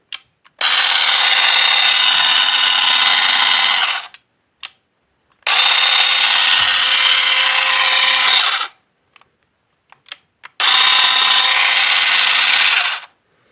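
A new electric hedge trimmer runs in three loud bursts of a few seconds each, its steady high buzz starting and stopping with short clicks between.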